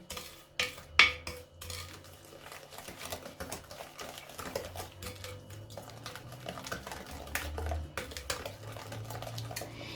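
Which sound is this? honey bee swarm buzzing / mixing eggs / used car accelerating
mixing eggs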